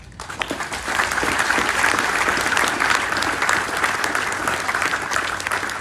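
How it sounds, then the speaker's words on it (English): Applause for family members at a Memorial Day ceremony: a crowd claps steadily and fairly loudly, sustained dense clapping throughout without talk. "give you a round of applause"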